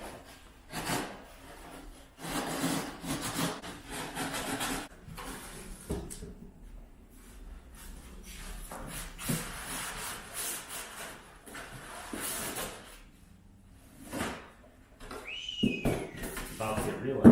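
Cardboard boxes holding Keurig coffee makers are handled and opened up close, with quiet scraping, rubbing and sliding sounds in irregular bursts and short lulls between them.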